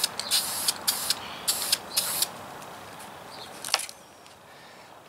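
Aerosol spray paint laid on in light passes over a stencil template for a tiger stripe camouflage pattern: four or five short, close hissing bursts in a steady rhythm, then a quieter tail with a faint click.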